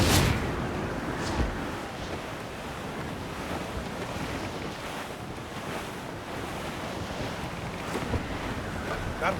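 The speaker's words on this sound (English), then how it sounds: "That wind's no small gale" Strong wind roars over crashing sea waves and surf around a sailing ship in Assassin's Creed Black Flag, a loud, continuous rush with gusty swells and no voices.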